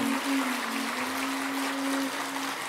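Steady applause from a crowd fills the space, a dense wash of clapping with a faint sustained tone running underneath.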